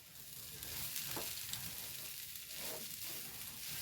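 A steady, close sizzle comes from a jackfruit seed and prawn stir-fry frying in a pan. Soft scraping stir strokes break the sizzle now and then, and no one talks.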